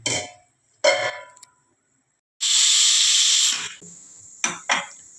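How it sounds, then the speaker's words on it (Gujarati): A pressure cooker on a kitchen stove while cooking masale bhaat, giving short bursts of whistle and hiss, then one long loud steam release and two quick spurts, with silent gaps between. "કુકરની 3 સીટી વાગી ગઈ છે"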